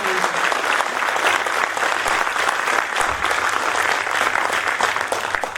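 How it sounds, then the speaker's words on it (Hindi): Loud, sustained applause from a crowd in an auditorium at a Hindi comedy poetry gathering, a dense continuous wash of clapping that holds steady throughout. "जरा एक बार जोरदार ताली बजे"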